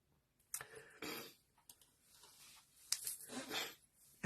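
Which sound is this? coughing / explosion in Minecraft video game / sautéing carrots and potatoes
coughing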